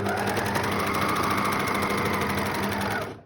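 A sewing machine runs steadily, stitching elastic onto the edge of a pair of pants, with a constant close whirring motor drone and rapid needle rhythm that fades out at the end.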